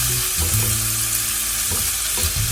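Mutton liver sautés with pepper powder and a little Kashmiri chilli powder in a hot pan, a loud, close sizzle with steady stirring and a few scraping knocks of the spoon.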